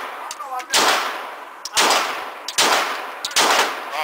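Glock 17 9mm pistol fired rapidly at a shooting range, a handful of sharp, loud reports spaced under a second apart with echoing decay between shots, and voices heard faintly around them.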